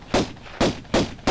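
Four loud, punchy gunshots fired at a gator in the Tomb Raider video game, evenly spaced roughly every third of a second, each a close, heavy burst with a short decay.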